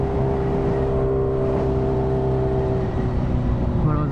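A Kawasaki H2R motorcycle engine runs and revs, a loud close mechanical drone with a steady tone that rises slightly near the end, heard alone without voices.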